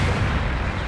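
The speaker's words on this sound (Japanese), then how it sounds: "支援砲撃の効果あり。" Support artillery bombardment in Gundam Battle Operation 2 on a mountain map, a dense, continuous rumble of heavy explosions, loud and close, with no clear gaps.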